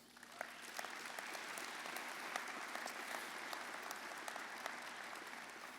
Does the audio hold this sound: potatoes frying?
no